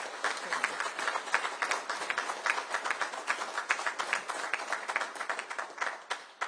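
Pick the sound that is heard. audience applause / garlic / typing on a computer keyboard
audience applause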